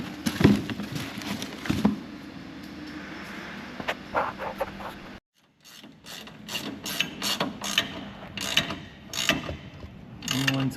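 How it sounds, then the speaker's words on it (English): Ratchet clicking and mechanical clatter from tightening bolts during a coilover install on a Daihatsu Hijet's rear end, in bursts of close, busy clicks with a short silent gap midway, alone with no talk. "It's just a matter of tightening up the bolts."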